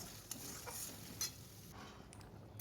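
Potatoes and onion stir-fry with spices in a pan for a home-cooked Bengali dish, giving a faint, soft sizzle with a couple of light spatula scrapes.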